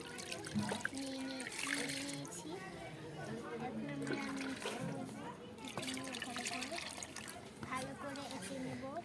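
Lukewarm water trickles into flour while dough is being prepared, a light pouring and splashing under steady talking and a voice in a home kitchen.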